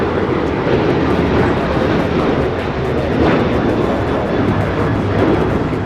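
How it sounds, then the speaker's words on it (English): Alaska Airlines Boeing 737-900ER jet taking off at Los Angeles airport, bound for Los Cabos: a steady, loud broadband engine roar held throughout, with no pauses and no voices. "This is Alaska Airlines 219 taking off to Los Cabos on the 737-900ER."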